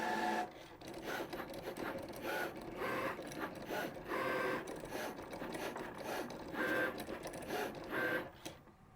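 An embroidery machine runs its cutting cycle after a tack-down stitch on a double sequin appliqué, giving repeated mechanical ratcheting and clicking bursts at close range, with no talking.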